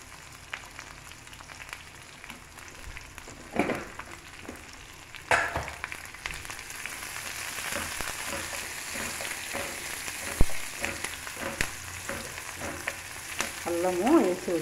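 Tempering frying in a pan for a brinjal and chickpea masala curry, a soft steady sizzle with occasional louder crackles and stirring scrapes, close by and without talk.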